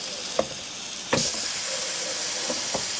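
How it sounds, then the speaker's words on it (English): Pork chops sizzle on an air fryer grill pan lightly misted with cooking spray, a steady close frying hiss with a few faint clicks and taps scattered through it. "And a nice little sizzle there."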